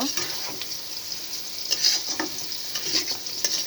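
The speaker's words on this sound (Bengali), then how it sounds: "খুব সুন্দরভাবে আমি নাড়াচাড়া করে কষিয়ে নেব।" Small fish and sweet pumpkin are stirred and fried in a pan, a soft steady sizzle broken by light scraping strokes, close by with no talking.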